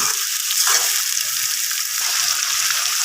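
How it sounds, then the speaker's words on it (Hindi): Chopped chicken liver fries with ginger and garlic in a pan, a loud, close, unbroken hiss of sizzling with faint stirring knocks underneath. "तो अब हम इसमें ये कलेजी को जो मैंने कटिंग करके रखा हुआ है ये शामिल कर देंगे"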